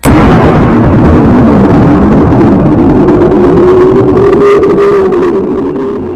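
A volcanic eruption explosion rendered as a loud, sustained low rumbling roar that fills the clip, with a drawn-out rolling boom that slowly fades toward the end and no voices.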